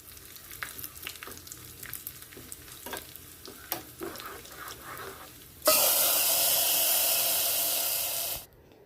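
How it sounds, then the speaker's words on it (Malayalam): Mustard seeds frying for tempering a Kerala-style white peas curry: scattered crackles and pops at first, then a loud burst of hissing sizzle that holds for about three seconds before cutting off, close and with no talk. "ഇനി നമുക്ക് ഈ കറിയിലോട്ട് കുറച്ച് കടുകും കൂടെ വറുത്ത് ചേർത്ത് കൊടുക്കാം"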